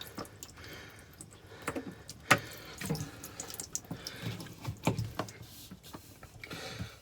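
Water runs and trickles from a disconnected water line behind a removed RV toilet during a composting toilet install, with intermittent splashes and drips close by, fairly quiet and with no talking.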